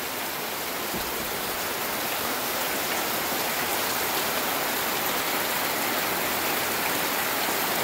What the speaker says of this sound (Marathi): पाऊस पण गणपतीच्या पहिल्याच दिवशी